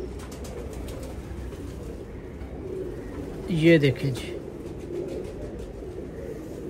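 A domestic pigeon coos briefly in a loft among fancy show pigeons, a short rolling burst of cooing over steady background noise, with someone speaking quietly nearby.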